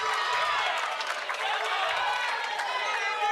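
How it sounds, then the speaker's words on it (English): Arena crowd at a Major League Pickleball playoff match in San Diego, a steady dense roar of murmuring and chatter that sits loud and close the whole time, with no breaks. "the crowd being uneasy and nervous and into it"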